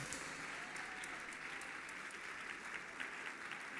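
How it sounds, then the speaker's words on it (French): An audience applauding the winners at a 2017 school gala, a steady, fairly faint patter of many hands with a few sharper individual claps standing out. "Mesdames et messieurs, applaudissez nos gagnants!"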